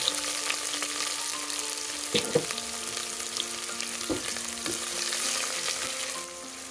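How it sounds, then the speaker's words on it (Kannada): Chopped onions frying in oil for chicken biryani, a steady close sizzle carried under occasional sharp clinks and scrapes of a spoon stirring in the pan. "ಸೊ ಈ ರೀತಿ ಸ್ವಲ್ಪ ಈರುಳ್ಳಿ ಫ್ರೈ ಆಗ್ ಫ್ರೈ ಆಗ್ತಾ ಇದೆ"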